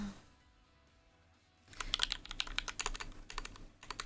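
Quick bursts of clacking keystrokes on a computer keyboard start after a quiet opening and continue loud and close in an irregular rhythm.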